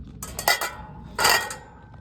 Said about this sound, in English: It's a nice stainless steel pan.